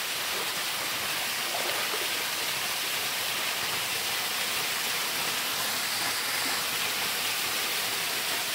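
Water rushes down a mountain stream on the Sathuragiri hill trail, a steady broadband roar of flowing and falling water that stays close and continuous throughout, with no voices.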